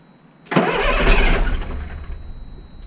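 A car engine cranks and catches, a sudden loud rumbling start that settles into a steady idle, with no one speaking.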